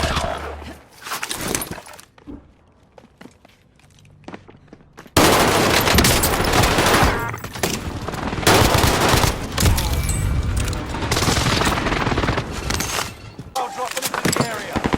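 Gunfire in the Warzone Cold War video game: after a quieter stretch of scattered shots, loud sustained automatic bursts and rapid fusillades ring out close by and continue densely to the end.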